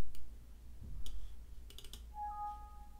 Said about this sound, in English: We're gonna go ahead and click under our number one.